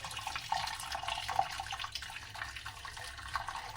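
Hot water from freshly boiled Maggi noodles is poured off, a faint, steady trickling and splashing of liquid running out, heard alone at low volume.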